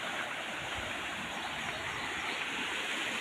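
A flooded village stream rushes past in a loud, continuous broadband roar of churning water, steady throughout with no voices.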